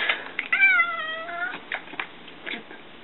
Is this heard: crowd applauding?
no